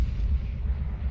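A grenade detonates in a Counter-Strike match at the PGL Major Krakow 2017, a dull, loud boom with a sustained low rumble lasting about a second, no voices over it.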